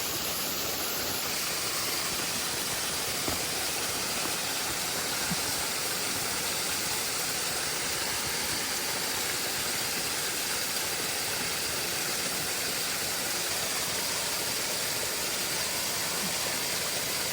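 Water rushes from a nearby waterfall as a loud, steady roar that fills the whole stretch without a break, with no voices over it.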